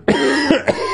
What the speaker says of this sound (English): Your coughing kept me awake.